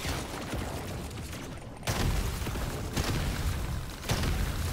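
Grenade explosions in Deep Rock Galactic: Survivor go off in a dense, continuous barrage of booms and crackles, loud and close, with a sharp jump in intensity about two seconds in and further surges after.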